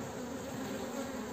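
Honeybees crowd a hive frame, making a steady, dense buzzing drone that holds even throughout, moderately faint and close.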